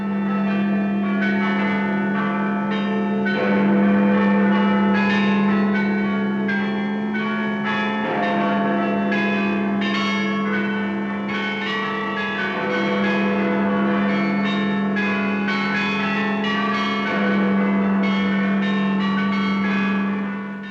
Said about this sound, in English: Now the bells rang out a song of thanksgiving, a song of victory.